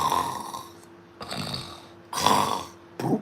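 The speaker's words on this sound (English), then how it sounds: "He snores at night because of his big belly." A heavyset man snoring in deep, rasping breaths, three long snores spaced about a second apart with a shorter snort at the end, close and alone without talk.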